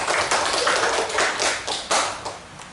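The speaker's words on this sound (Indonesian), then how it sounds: "Ya, tepuk tangan buat kita semuanya." Applause from a classroom group: a short burst of scattered hand claps with uneven rhythm, moderately loud and close, with no talking over it.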